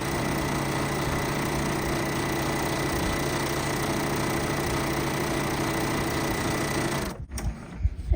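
A sewing machine runs steadily, stitching pieces of quilt fabric for quarter square triangle blocks, a continuous mechanical whir that cuts off near the end.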